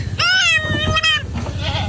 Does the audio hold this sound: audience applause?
no